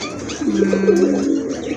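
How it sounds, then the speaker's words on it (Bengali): A pair of large Kaldom pigeons gives a single drawn-out coo close by, soft and low, with a brief clatter at the end. "খুব বড় সাইজের একজোড়া কালদম কবুতর"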